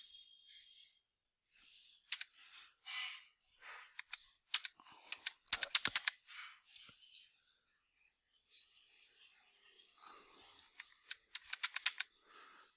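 A password is typed on a computer keyboard in quiet, close bursts of crisp key clicks separated by pauses, with a faster flurry of taps near the end and no talk.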